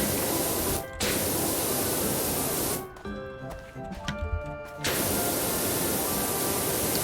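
A pressure washer with a red nozzle blasts a van in Powerwash Simulator, a loud, steady hissing spray that cuts out briefly twice, with clicking and tonal game sounds filling the gap before the spray resumes.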